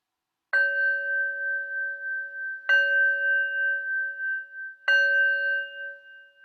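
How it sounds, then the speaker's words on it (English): A small meditation bell is struck three times, about two seconds apart, each strike giving a bright ding that rings on with a slowly pulsing, wavering sustain in a quiet room. "So I'll start with ringing the bell."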